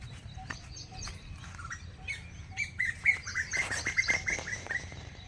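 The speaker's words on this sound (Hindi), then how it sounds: "आवाज़ सुनो चिड़िया की। कई किस्म की चिड़िया यहाँ पर बोलती हैं" Several birds chirp and tweet outdoors among vegetable plants, short calls and trills from different directions, growing busier toward the end.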